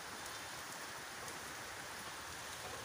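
Steady monsoon rain falls on a Nepali goat farm as a dense, uniform hiss, a close wash of water with no voices.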